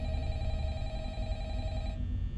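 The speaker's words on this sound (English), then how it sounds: "quickly broken by the sudden ringing of the phone on your desk" A desk phone rings in the office of the Five Nights at Freddy's video game, a steady electronic trilling tone that holds for about two seconds and then cuts off, with no talking.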